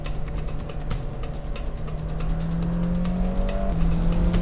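A Fiat 124 Spider Abarth with a turbocharged engine braking hard on a race track, its engine note dropping and rising as it downshifts with a heel-toe blip into second gear, heard close from inside the car.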